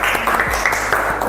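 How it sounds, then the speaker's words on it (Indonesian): A roomful of people claps for a presenting group during a school training session, a brief, dense burst of applause heard up close. "Tepuk tangan untuk kelompok A."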